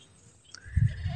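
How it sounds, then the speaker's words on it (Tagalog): A neighbour's goat gives a single short, fairly close bleat near the end, following a quiet stretch of faint background noise. "Kala ko kambing na naman ng kapitbahay."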